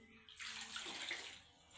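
Gongura leaves washed in water, a short burst of rushing, splashing water lasting about a second, close by and fairly soft, with no talk.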